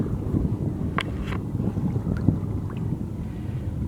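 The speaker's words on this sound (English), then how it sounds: "It's wind's picking up, so it's starting to roll quite a bit out here." Steady wind buffets the microphone on open water on Raquette Lake while a paddler moves across rolling water, with a constant low rumble and a few faint splashes and knocks.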